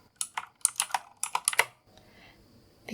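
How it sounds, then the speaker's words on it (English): Crisp clicks of a Razer computer keyboard tapped in quick irregular bursts up close, about a dozen keystrokes over a second and a half, then a quiet pause with faint hiss before one last click. "just lowering the sound of the clicks of the keyboard"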